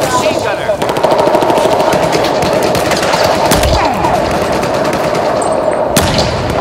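Sustained automatic machine gun fire in Battlefield 4 multiplayer combat, loud rapid bursts running almost continuously, with heavier impacts mixed in.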